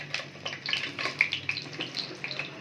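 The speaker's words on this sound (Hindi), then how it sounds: "और आज बस जनाब शामी कबाब भी फ्राई कर रहे हैं" Shami kebabs frying in a home kitchen pan give off a steady oily sizzle with scattered crackles and pops, close and fairly quiet, with no talking.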